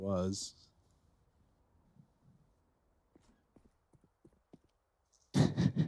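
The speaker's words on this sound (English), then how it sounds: "Hearing all these footsteps, Niko" Soft, scattered footsteps in Counter-Strike on the Nuke map, a quiet series of light taps in the middle stretch, framed by bursts of speech at the start and end.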